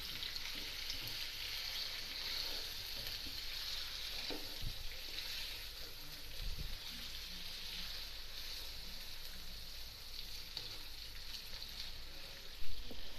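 Chicken frying lightly in a pan for aloo chicken korma, a soft continuous sizzle with occasional low knocks and stirring sounds, close and fairly quiet, no talking.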